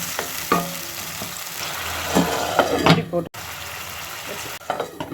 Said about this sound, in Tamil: இஞ்சி பூண்டும் பச்சை வாசம் போகிற வரைக்கும் நல்லா வதக்குங்க